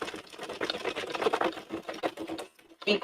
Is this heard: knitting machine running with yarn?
yes